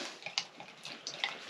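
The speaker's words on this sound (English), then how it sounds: "We'll give that a stir" Thai soup from a French MRE ration being stirred in hot water, giving soft, quiet sloshing and light liquid clinks in short irregular bursts, close and alone.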